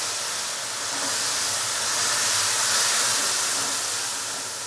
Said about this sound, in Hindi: मसाले को 1 से 2 मिनट के लिए भून लेंगे।